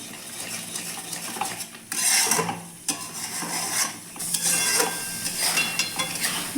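Metal spoon scraping and clinking against a pot while milk is stirred over low heat as it turns into homemade ghee, with irregular bursts of scraping, faint sizzling underneath.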